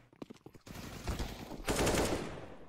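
Rapid automatic gunfire in Counter-Strike: Global Offensive during a Gambit vs Sinners match, a short burst of sharp shots building into a loud, dense volley that tails off, with no talk over it.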